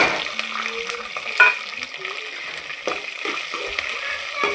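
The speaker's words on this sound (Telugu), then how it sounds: "ఇలా బాగా ఫ్రై చేసుకోవాలి." Onions and green chillies frying in oil with curry leaves, a steady close sizzle under repeated scraping and stirring knocks from a spoon against the pan.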